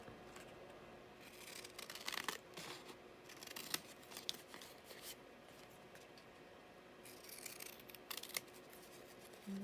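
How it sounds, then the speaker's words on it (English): Scissors snip through a printed page cut from a book to make a postcard, a run of soft, close crisp cuts in short bursts with pauses between, quiet and alone. "Let's just now cut this one out."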